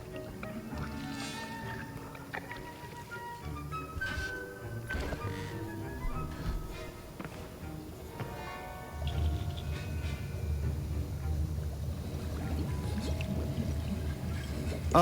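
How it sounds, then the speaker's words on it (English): Stirring a potion in a cauldron in Hogwarts Legacy, heard as steady liquid swishing and sloshing against a game music bed, growing fuller and louder in the second half. "Stir in the cauldron."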